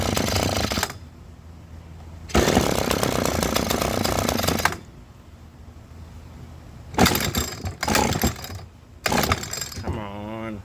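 An Echo stick edger's small two-stroke engine starts in loud bursts, sputtering and revving for a couple of seconds, dying away, then catching again in shorter roaring spurts.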